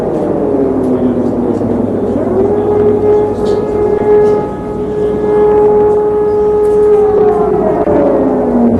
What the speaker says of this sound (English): the scene in Tel Aviv earlier this evening as the air raid sirens sounded